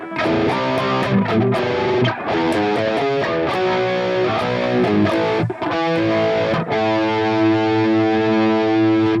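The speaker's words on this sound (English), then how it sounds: "So the flanger in here, let's turn that on." Electric guitar run through a flanger effect on an Overloud TH-U amp tone, playing sustained distorted chords and picked notes with a sweeping, swirling tone, loud and continuous with no voice.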